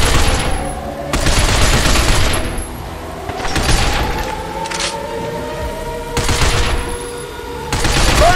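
Gunfire in the Binary Domain shooter comes as loud bursts of automatic fire, several roughly one-second volleys separated by short pauses, with a sustained mechanical hum beneath.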